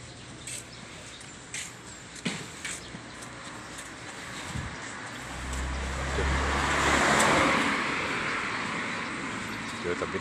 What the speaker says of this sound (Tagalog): meron dito dumadaan ng mga sasakyan